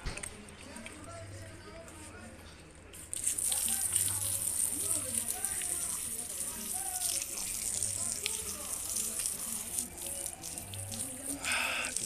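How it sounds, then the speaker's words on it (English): Dirty socks are rinsed by hand under running water, a steady gushing tap with splashing that swells after a few seconds, close and continuous, with faint background murmur. "Wash out my dirty socks."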